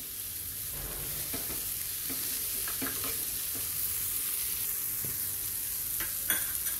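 Tomatoes hitting hot oil with sautéed onion for paneer bhurji give a steady broadband sizzle, close and even, with a few soft stirring scrapes scattered through and no talking.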